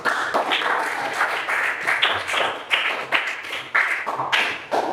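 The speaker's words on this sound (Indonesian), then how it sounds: "Tepuk tangan dulu." A classroom of students claps together during an Islamic jurisprudence lesson: a steady, close burst of many hands slapping in a fast, uneven rhythm that continues throughout without pause.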